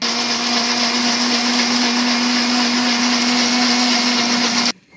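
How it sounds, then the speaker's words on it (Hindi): An electric blender whirs steadily at high speed while blending a mint drink, a loud constant motor drone with a clear hum that stops abruptly near the end. "तो अभी इसको मैं ब्लेंड कर देती हूँ।"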